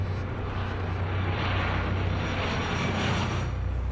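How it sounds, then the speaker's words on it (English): An airplane flying overhead, a steady broad engine roar that holds loud and unbroken throughout, with no voices. "The sound of another plane came, and then, as we know, that plane hit the South Tower."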